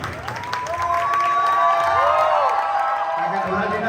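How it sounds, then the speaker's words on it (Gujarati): Crowd at a garba cake ceremony in Dhoraji cheering and clapping, a loud continuous swell of applause and whoops with a rising whistle-like tone, mixed with a speaking voice. "આપ સર્વેને વિનંતી એકવાર જોરદાર તાળીઓ પાડો."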